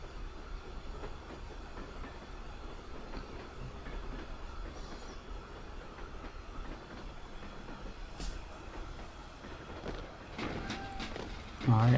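A train pulling in during a cutscene in the video game Pathologic, a low rumbling rail clatter with rhythmic clicking of wheels, fairly quiet and steady, with a few sharper knocks and a louder swell right at the end.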